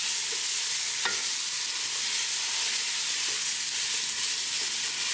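Frozen mixed vegetables hit hot oil in a pan for an oats vegetable soup, giving a loud continuous sizzle and hiss throughout, with occasional scrapes and clinks from stirring close by.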